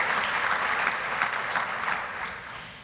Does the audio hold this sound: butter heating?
no